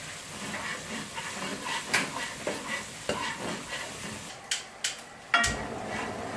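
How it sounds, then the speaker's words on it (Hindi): Masala with turmeric and salt fries in a pan for tuna fish salan, a soft continuous sizzle under repeated spoon stirs and scrapes, with a few sharper clanks against the pan near the end; no talking. "इसको 3 से 4 मिनट भूनेंगे"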